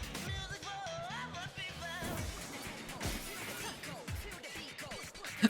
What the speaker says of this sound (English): the glass breaking and people screaming, too.